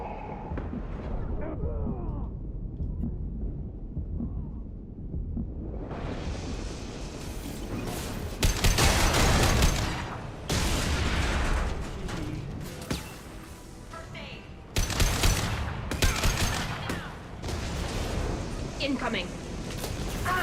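A tank's gunfire in the Mass Effect 2 video game, heavy booming blasts and bursts of fire coming in clusters under ongoing talk and game noise.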